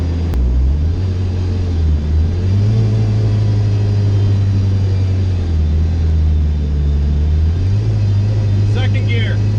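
A car engine fitted with a Jackson Racing supercharger accelerating through the gears, a loud, close droning engine note that climbs, drops at each shift and climbs again, with some voice sound picked up in the cabin.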